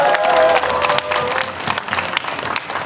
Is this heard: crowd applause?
yes